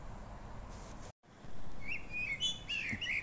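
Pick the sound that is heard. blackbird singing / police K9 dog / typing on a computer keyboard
blackbird singing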